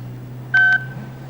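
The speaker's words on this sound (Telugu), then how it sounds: "ఫోన్ చేసి ఇప్పుడే చేస్తా" Two quick telephone keypad tones beep close up in succession as a number is dialled, over a low steady hum.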